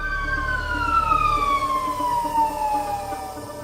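Emergency vehicle sirens wailing in a slow falling sweep, loud and near, over low road rumble at a fire scene in Hermosillo, Mexico; no talk.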